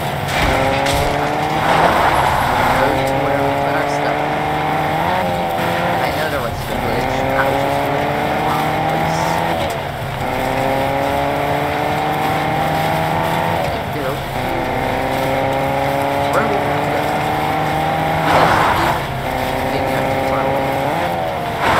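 A video game car drives with a loud, constant engine drone that rises and falls as it shifts and accelerates, with occasional skidding tire squeals mixed in throughout.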